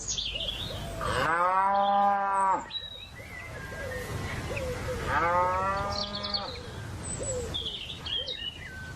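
A golden-yellow cow moos loudly twice in long drawn-out calls, separated by a short pause, with faint birds chirping in the background and no speech.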